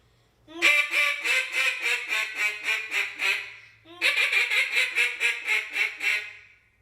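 A duck call blown close up in two rapid series of quacking notes, each run of about ten descending quacks separated by a short pause.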